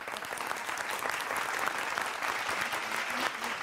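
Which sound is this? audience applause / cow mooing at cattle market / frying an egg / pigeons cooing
audience applause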